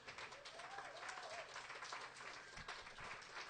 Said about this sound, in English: I want to please have you all give an applause for all your children here today